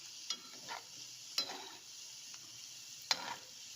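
Cabbage pakoda frying in oil, a quiet steady sizzle of settling bubbles broken by a few sharp stirring clicks and scrapes, with no talk.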